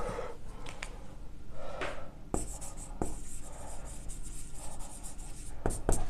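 Pen or chalk scratching out a math solution for a Class 9-10 trigonometry exercise, with repeated short strokes and taps close by; no talk over the scratching.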